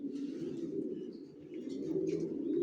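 Racer pigeons in a loft coo steadily in a low, continuous murmur, several birds overlapping close by, with faint higher chirps scattered above and no talk.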